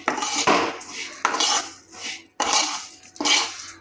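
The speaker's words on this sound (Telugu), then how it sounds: "తర్వాత అదే పెనంలో కొంచెం సేమియా వేసుకొని దోరగా వేయించుకోవాలి, పచ్చివాసన పోయేంత వరకు." Metal spatula scraping and clinking against a pan while vermicelli is dry-roasted until golden, a few close repeated scraping strokes with short pauses between them.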